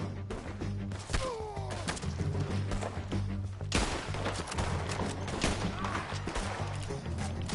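A gunfight in a cowboy video game: loud, rapid shots and heavy thuds crack in irregular bursts over a low rumble, with one especially strong blast near the middle and a shout briefly heard among them.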